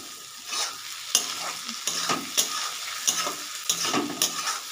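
Egg stirred with a spatula in a hot frying pan for egg chowmein, steady sizzling broken by repeated scraping strokes about every half second, close up with no talking.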